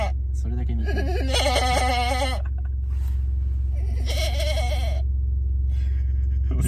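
A person's voice imitates a sheep's bleat, in the manner of Shaun the Sheep, two drawn-out wavering bleats over a steady low hum, with other people talking around them.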